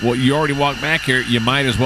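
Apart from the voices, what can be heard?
No everyday noises stand out.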